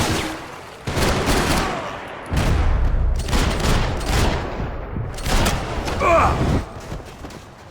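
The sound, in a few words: gunfire in the video game Max Payne 3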